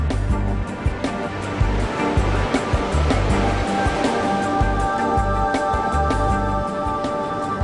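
Ocean surf rolls and breaks on a beach at Gopalpur, Odisha, a loud, continuous roar of churning water with no voices.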